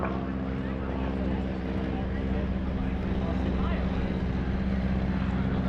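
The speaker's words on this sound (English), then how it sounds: "Slowing that big, heavy airplane down to about 65 miles an hour." A heavy airplane flying slowly overhead at about 65 mph at the NAS Oceana Airshow, 2016: a steady, heavy engine drone with a low propeller-like hum, continuous and fairly loud throughout, with no break in the rumble.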